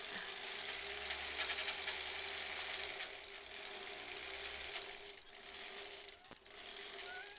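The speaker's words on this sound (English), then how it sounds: "Lay this bugger on top, and then we just sew down the edge." A sewing machine runs steadily, stitching down the edge of a fabric face mask, with a continuous mechanical whir that dips briefly near the end before resuming.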